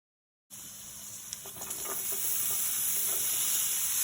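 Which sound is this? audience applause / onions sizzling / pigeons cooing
onions sizzling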